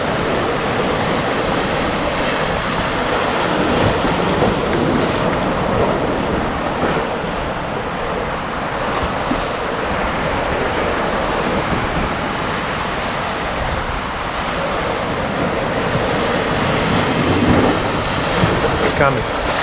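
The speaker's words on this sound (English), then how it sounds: "This coming wave will be stronger, I'm sure." Ocean surf rolls in steadily on an exposed Canadian beach, a continuous loud wash of breaking waves mixed with wind buffeting the microphone.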